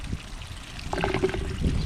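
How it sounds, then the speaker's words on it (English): Strong water flow churning through an aquarium sump, a brief close splashing and gurgling rush with bubbly trickles. "I mean, that's a pretty strong water flow there"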